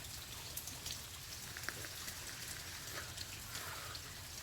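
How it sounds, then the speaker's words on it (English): Rain falls outside on a wet Monday, a faint steady patter with scattered drips close by, soft and continuous with no one talking. "It's a very, very rainy Monday here."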